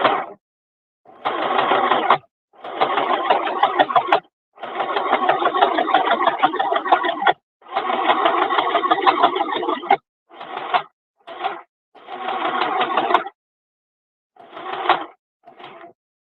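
A craft sewing machine with no speed settings runs in rough, continuous bursts of stitching, starting and stopping several times with short pauses between, close and fairly loud with no talking.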